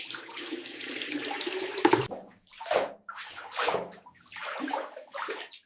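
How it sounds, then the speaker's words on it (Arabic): Water runs steadily from a tap in a bathroom to hand-wash clothes after the washing machine broke, first as a continuous gush, then in several shorter splashing bursts, close and clear. "غنمشي نجيب الماء من الطواليط باش نصبنهم بيدي"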